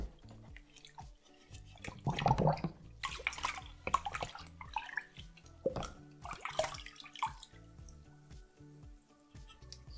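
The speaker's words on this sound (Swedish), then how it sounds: "Då lägger vi av detta i vatten." A metal part is lowered into a water bath during home electroplating prep. Scattered splashes, drips and sloshing come in short bursts with quiet gaps between, close by and fairly faint.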